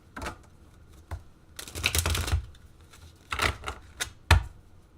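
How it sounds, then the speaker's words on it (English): A deck of tarot cards being shuffled close by, with several quick bursts of riffling and slapping separated by short pauses. "So I'm going to be shuffling for your energy, and I'm going to be splitting the deck into 3"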